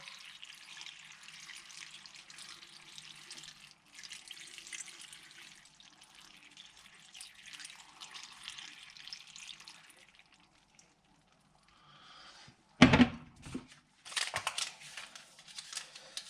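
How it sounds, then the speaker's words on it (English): Tap water runs into a container holding vinegar, topping it up to about a third full for pickling red cabbage; a steady hiss of filling water, then a few sharp clatters and handling sounds near the end. "We're going to top this up to about 1/3 full of water"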